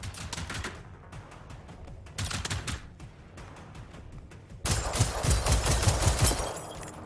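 Repeated bursts of rapid gunfire in the open-world shooter Generation Zero, loud and close, coming in clusters with short gaps before a longer, denser volley; no talk.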